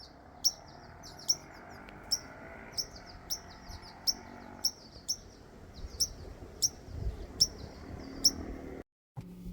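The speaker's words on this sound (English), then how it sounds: "There's a little bird that's not happy with me." On a sunny Alaska farm by the garden, a small agitated bird repeats sharp high chirps about a dozen times at a steady, roughly once-per-second pace, each note clear against quiet low background rumble.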